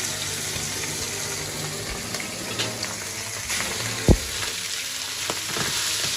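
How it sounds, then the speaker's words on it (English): Tenderloin medallions wrapped in Black Forest bacon frying in a pan, a continuous moderate sizzle with a few soft knocks and one sharp clink, no voices. "So we're gonna fry this and we're gonna be prepared for a lovely meat surrounded with bacon"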